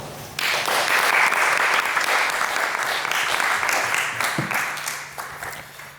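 An audience claps steadily for several seconds to welcome a speaker at an academic talk. The loud, dense applause from a crowd swells quickly, then tapers off near the end.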